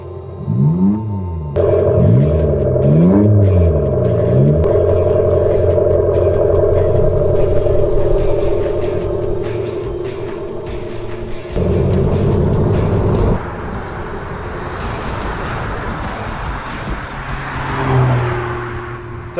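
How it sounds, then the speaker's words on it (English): An Abarth 500e electric car's standard sound pack plays a synthetic engine exhaust note through an underbody subwoofer, loud and close, with rising, revving sweeps, a steady droning cruise and a roaring acceleration toward the end. "This car actually comes with a sound pack as standard, so that's basically a subwoofer underneath the car that imitates an engine exhaust sound"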